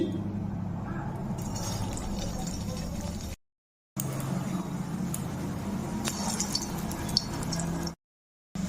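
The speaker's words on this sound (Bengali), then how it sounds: "এখন আমি সয়াবিনগুলো ভেজে নিচ্ছি" Soya chunks frying in hot oil for kofta curry, a steady bubbling hiss running continuously at close range, broken by two brief silent gaps.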